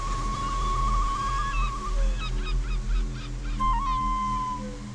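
Seagulls calling over a stranded whale on the shore: several raspy cries and honk-like squawks, fairly close and loud, over a steady low rumble, with no speech.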